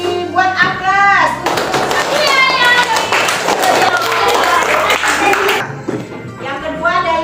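Applause and clapping for Nurisa Putri in a classroom-style presentation: a few seconds of close, brisk, loud hand claps from a small group, with a voice speaking just before and after.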